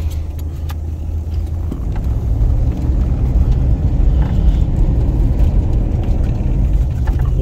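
A 1980 Oldsmobile Toronado cruising, a steady low engine and road rumble heard from inside the car, even and unbroken with no talking.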